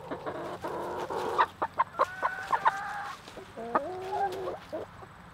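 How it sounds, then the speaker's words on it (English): Chickens and a rooster cluck in a yard while foraging among invasive weeds: a series of short, fairly close clucks and calls, some drawn out, over a quiet background. "There's the other rooster."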